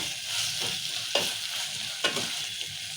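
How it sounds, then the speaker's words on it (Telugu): Turmeric tempering for a red lentil dalcha stirred in a hot pan, a steady oil sizzle broken by two or three scraping strokes of the spoon, close and fairly loud with no talking. "ఇప్పుడు ఇలానే చిట్కే పసుపు చేసుకున్నాం మళ్ళా ఇలా మంచిగా కలుపుకోవాలి"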